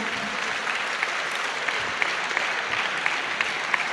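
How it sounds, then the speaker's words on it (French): A convention crowd claps for the finalists of an Arena League game tournament at Ankama Convention, producing sustained, even applause with scattered sharper claps standing out. "Applaudissez-les bien."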